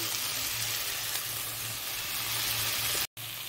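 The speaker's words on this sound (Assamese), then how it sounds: "এইখিনি মিঠাতেলত আদা নহৰু আৰু কেঁচা জলকীয়া পেষ্ট দিছোঁ" Ginger, garlic and green chilli paste frying in mustard oil gives a steady, close sizzle with a low hum beneath, broken by a brief dropout near the end.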